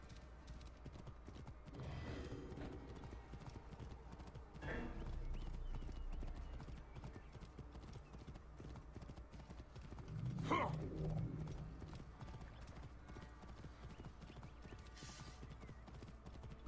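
A horse's hooves clip-clop in Assassin's Creed Origins, in soft irregular bursts of steps rising and falling over about seventeen seconds, with a whinny-like swell midway and faint game ambience between.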